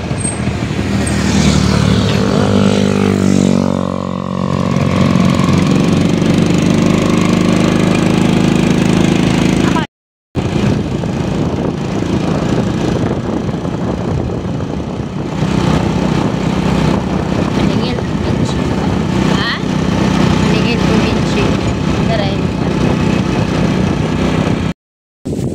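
Motorcycle engine droning steadily while riding on a road in the Philippines, loud and close with wind rush, briefly cutting out twice.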